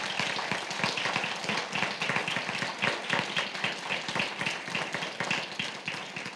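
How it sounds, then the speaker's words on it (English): Scattered clapping from a modest audience at a school board candidate hearing, uneven individual claps close by with some murmuring underneath. "Let's give our candidates a round of applause."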